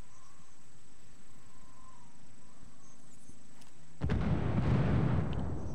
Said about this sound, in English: Alright, throwing it through the window. Yo, watch out for the flashbang.